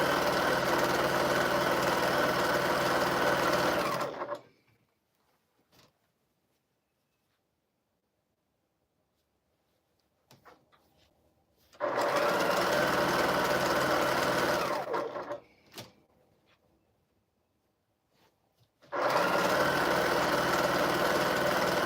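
A sewing machine runs while stitching a quilt, sounding in three steady, loud bursts of continuous whirring motor hum separated by pauses of near silence with faint handling clicks.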